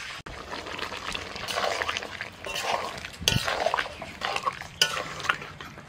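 Fried potatoes go into a mutton curry and are stirred, giving soft scraping and clinks of a utensil against the pot over a low sizzle, with a sharper knock partway through.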